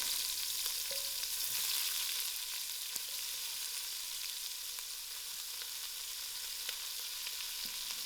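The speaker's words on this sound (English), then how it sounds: "I'll allow these onions to fry out" Onions fry in olive oil in a pot, giving a soft, steady sizzle throughout with a couple of faint clicks and taps from the cookware, quiet and close with no voices.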